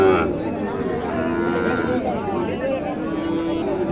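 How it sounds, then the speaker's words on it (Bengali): Sahiwal-cross bull calves and other cattle moo at a livestock market in Dighirhat, Sapahar, Naogaon, with long lowing calls over busy crowd chatter and nearby talk. "এখানে একটি দেশি এবং শাহিওয়ালের ক্রস সম্ভবত ষাঁড় বাছুর"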